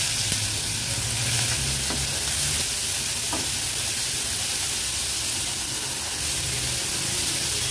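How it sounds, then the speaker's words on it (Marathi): Bombil fish batter, Agri Koli style, sizzles steadily in oil on a hot griddle, a close, even frying hiss with faint occasional clicks and no talk. "हे तयार केलेलं बोंबलाचं खेंगट आहे ना अगदी अलगदपणे तव्यावर पसरून घ्यायचंय"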